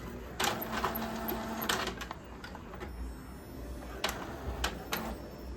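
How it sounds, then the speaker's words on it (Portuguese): Inkjet-style printer feeding and printing A5 pages for double-sided output, with repeated mechanical passes and bursts of whirring and clicking at moderate, steady loudness, no talk. "assim que o lado sair, a gente vai virar esse lado para depois imprimir os lados pares"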